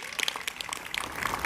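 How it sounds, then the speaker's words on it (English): Audience applause at a Catholic school grand opening and blessing ceremony, a short burst of scattered, fairly soft hand clapping from a gathered crowd. "Please join me in giving Jayla a big round of applause."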